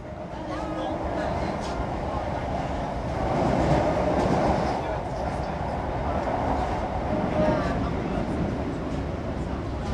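A Southern Class 455 electric commuter train runs toward London Victoria, its steady interior rumble and rail noise continuous throughout with faint wheel squeal, while passengers talk in the carriage and an onboard announcement plays.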